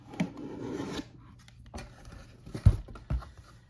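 Team Associated B74.2 RC kit box being opened, with scraping and rasping of cardboard and packaging, a few sharp thumps and handling knocks, close and fairly quiet, no talking.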